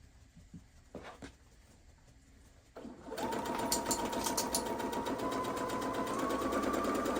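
A sewing machine stitches fabric with a 1/4 inch seam allowance for a quilted Christmas doorhanger, opening with a few faint taps and shuffles before a close, steady, fast mechanical whir starts at about three seconds and keeps running.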